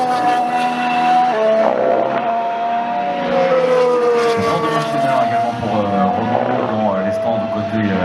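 Formula 1 cars roaring around the Paul Ricard circuit during Saturday qualifying, with sustained high-pitched engine whines that rise and fall as cars pass, heard continuously beneath a commentator's voice.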